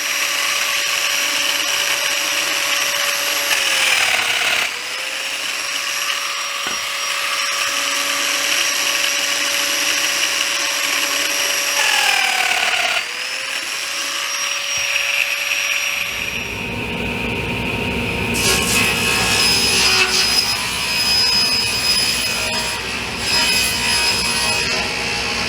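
Power saw cutting into a wooden dresser panel, a steady loud whine with pitch dips as the blade loads in the cut, then a rougher, noisier cutting passage in the second half, with no talking.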